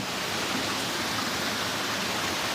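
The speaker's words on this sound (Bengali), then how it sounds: "আর এই যে পুরো ঝর্ণাটা এখানে নামছে এই যে উপর থেকে" Water pouring down a waterfall inside a zoo aviary, a steady, dense broadband rush that stays close and even throughout with no pauses.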